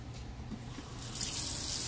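Tap water runs into a kitchen sink, a soft steady hiss and splash that grows fuller and louder partway through as the flow strengthens, close by and alone.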